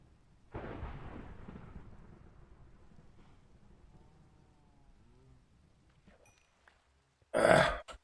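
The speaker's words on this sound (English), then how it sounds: "Oh, is it a thunderstorm?" A Minecraft thunderstorm: a thunderclap breaks out and rolls off into a long, fading rumble over several seconds, then a brief quiet before another sharp, loud burst near the end.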